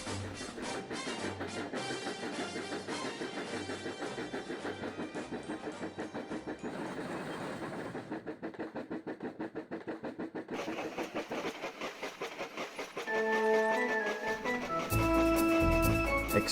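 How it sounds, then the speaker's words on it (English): Train pulling two coaches picks up speed with a rapid, regular clickety-clack rattle, then a louder rushing surge near the end, in a narrated model-railway story with no speech over the sound. "The two coaches suddenly felt the train accelerate."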